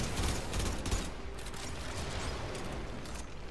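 Sustained gunfire against a boss in the Warframe video game, a dense, steady barrage of rapid shots with mechanical clatter running throughout at a fairly quiet level, with no talking.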